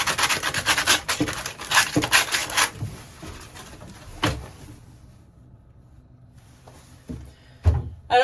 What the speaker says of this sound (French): je vais nettoyer au-dessous maintenant. Donc je vais foncer avec le gros grain.